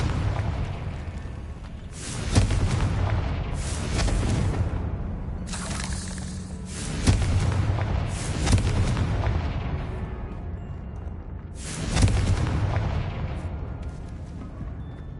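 Blasting Confringo spell explosions in the game Hogwarts Legacy, loud booming bursts at roughly two-second, five, seven and twelve-second points over a constant rumbling roar.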